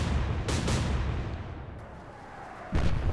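Naval guns firing in the naval warfare game Atlantic Fleet, with heavy booming blasts and a deep rumbling roar, a couple of shots early on and another sharp boom near the end.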